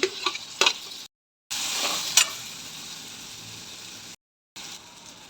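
Chopped tomato stirred into tinda sabji frying with chana dal, giving a close sizzle with spoon scrapes and clinks near the start, cut by two brief silent gaps.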